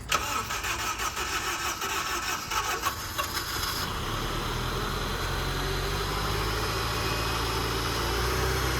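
A long-neglected Honda hot hatch with brakes locking up cranks and starts, then settles into a steady, loud, close engine idle that runs on without pause.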